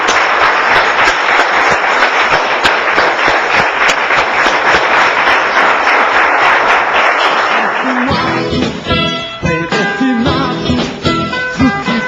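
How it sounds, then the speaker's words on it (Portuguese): A church congregation claps hard and continuously for several seconds in a loud, dense burst, then music takes over with scattered claps still audible. "Uma salva de palmas ao Senhor Jesus."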